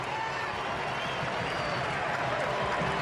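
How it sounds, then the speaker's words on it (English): A stadium crowd of German fans roars and applauds after a goal for Germany against the USA, a dense, sustained wall of cheering and clapping with an announcer's voice faintly over it. "The German faithful in the crowd erupt."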